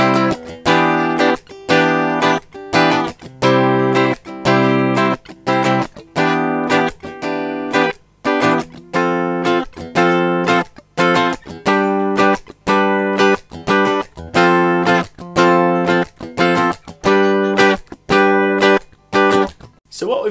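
Rhythmic strummed guitar bar chords, including a C bar chord, steady and choppy, with short muted gaps between strums, played close and fairly loud with no voices.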